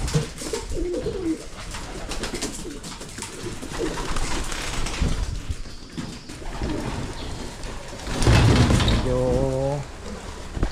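Pigeons cooing in a loft, with low throaty coos that rise near the end, mixed with rustling, wing flutters and someone speaking softly.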